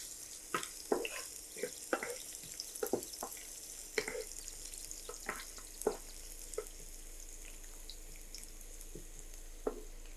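Onion frying in oil in a pan for a cabbage stir-fry, a faint steady sizzle broken by sharp clicks and taps of a spoon against the pan.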